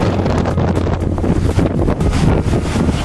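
Strong wind buffets the microphone on a waterfront in Venice, Italy, a loud continuous rumbling roar with gusty surges and no speech.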